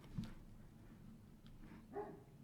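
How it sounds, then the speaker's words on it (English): A dog barks faintly in the background of a quiet indoor room, two brief distant yips about two seconds apart, with no voices over them. "Excuse my dog barking in the background."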